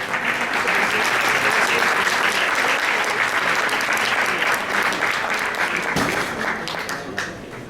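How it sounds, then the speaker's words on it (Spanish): A conference audience applauds a panel of speakers on public interest, transparency and press freedom, producing a full, steady round of clapping that holds for several seconds and then tapers slightly toward the end. "El aplauso para ellos."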